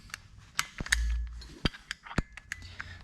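Clips snapping shut on a JEGS drag racing seat harness in a 2011–2014 Mustang, a series of sharp, close metallic clicks at irregular intervals with a soft thump of movement between them.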